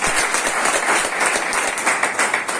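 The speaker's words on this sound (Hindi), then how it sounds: "एक बार ताली बजाओ" Audience clapping at a business meeting, a dense, steady burst of many hands applauding together, fairly loud and continuous with no talk over it.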